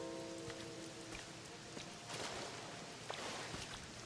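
Rain falling in the Pokopia video game, a steady, soft hiss of drops on surfaces with a few faint taps, constant and fairly quiet throughout, with no voices.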